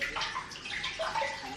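Tap water runs into a kitchen sink while something is rinsed, a close, steady splashing and gurgling that lasts a moment with no voices.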